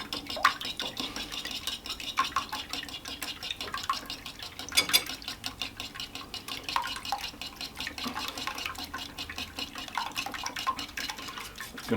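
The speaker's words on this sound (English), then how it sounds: "Bit of a whisk." Eggs being whisked with skim milk in a bowl, rapid continuous light tapping and swishing of a whisk against the bowl at close range, steady for the whole stretch.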